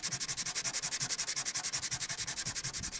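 Car paint being sanded by hand with 60-grit sandpaper on a block: fast, even back-and-forth rasping strokes, about ten per second, close and steady, with no talking.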